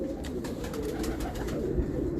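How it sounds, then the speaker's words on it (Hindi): A Kamangar pigeon coos softly and repeatedly close by, low throaty murmurs over a steady background hum, with no talking. "कमंगर कबूतर है"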